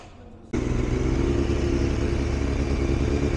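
Honda Fireblade superbike engine warming up before track testing, a loud, close, steady idle rumble that kicks in abruptly after half a second and holds evenly throughout.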